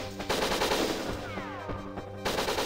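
Rapid bursts of guard gunfire from the N64 game Winback sound close and continuous over about two and a half seconds, with a brief lull near the start and the end, set over a steady game music and effects bed.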